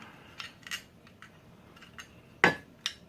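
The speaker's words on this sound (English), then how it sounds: "Get the slide out. Pump action out." A Mossberg 500 pump-action shotgun being stripped, with the slide pulled out: scattered light metallic clicks and scrapes, ending in one sharp louder clack and a smaller click close by.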